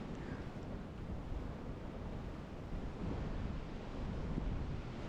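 Steady wind blowing over rough ocean water off the Big Island of Hawaii, a constant low roar mixed with surf wash and microphone buffeting, even in level throughout with no voices.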